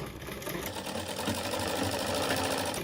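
A sewing machine runs steadily, stitching a slippery crepe silk saree at a fast, even, close-up pace without pause.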